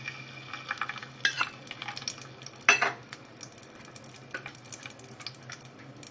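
Whole garam masala and cashews fry in hot oil in a pan for veg pulao. Soft crackling and sizzling carry along with scattered stirring scrapes and a couple of louder metallic pan clatters, heard up close with no voices.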